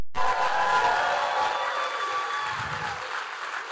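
A crowd applauding the 2024 NBA champion Boston Celtics, a broad wash of clapping that starts abruptly and stays steady, slowly fading over a few seconds.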